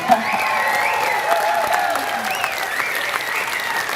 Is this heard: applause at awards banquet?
yes